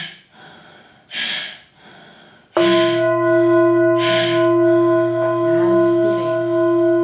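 Rapid forceful breaths of Natha Yoga's fire-in-the-belly practice, a few quick sharp exhalations near the mic, then a sustained held tone with faint breathing over it.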